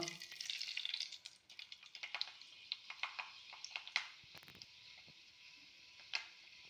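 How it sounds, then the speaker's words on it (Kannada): Fenugreek seeds sizzle and crackle in hot coconut oil, a bright frying hiss dotted with sharp little pops and ticks that gradually thin out and soften. "ತೆಂಗಿನೆಣ್ಣೆ ಈಗ ಎಣ್ಣೆ ಬಿಸಿಯಾಗಿದೆ. ಅದಕ್ಕೆ ಮೆಂತೆ ಹಾಕುವ."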